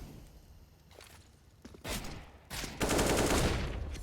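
Gunfire in Counter-Strike on the Vertigo map during an ESEA Premier match: quiet footsteps and thuds, then loud bursts of rapid automatic fire that build toward the end.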